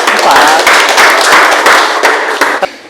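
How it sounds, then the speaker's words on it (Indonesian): A class in an Indonesian school gives a student group a round of applause, with dense clapping from many hands filling the room steadily before fading out near the end. "Oke, tepuk tangan buat kelompok"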